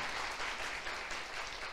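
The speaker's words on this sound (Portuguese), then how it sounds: "Aplauda o Senhor." A congregation applauding during a church sermon, a brief dense wash of many hands clapping together, steady and fairly distant throughout the short stretch.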